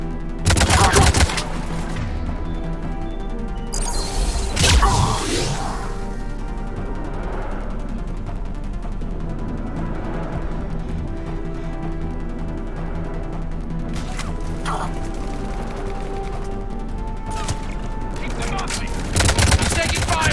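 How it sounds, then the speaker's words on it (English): Sniper gunfire in Mass Effect 3 during a firefight: sharp cracking shots near the start, around five seconds and near the end, set over a steady rumbling bed of game noise and scattered impacts. "Sniper fire!"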